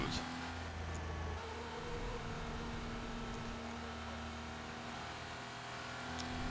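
A Porsche 911 Carrera RS 2.7 in a Need for Speed racing game holds a steady, moderately loud engine drone as it climbs a hill, with a brief pitch shift and a faint hum beneath.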